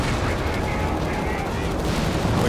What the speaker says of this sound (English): The carpet bombing coming down.